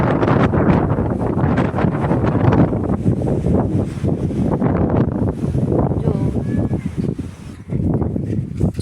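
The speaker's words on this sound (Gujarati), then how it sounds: "પવન એટલો છે." Strong wind blows outdoors on a darkening evening before rain, buffeting the microphone with loud, continuous roaring gusts and rustling throughout.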